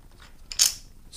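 Screw being backed out of the air filter cover on a Harley-Davidson Screaming Eagle K&N intake, a close ratcheting metallic click with a brief sharper squeak near the end, no voices.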